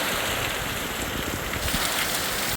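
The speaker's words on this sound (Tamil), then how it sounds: "நல்ல பெரிய மழை பெய்யுது." Heavy rain pours down steadily in a village, making a dense, loud, continuous hiss with no pauses.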